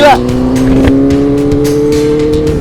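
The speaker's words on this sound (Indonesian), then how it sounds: "Ini mobil F1" A Formula 1 race car roars nearby with a loud, sustained high-pitched engine tone that rises slightly, while excited voices talk over it.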